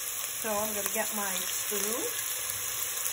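Garlic sizzles gently in a hot pan for a lentil soup, a faint steady frying crackle running beneath a person speaking.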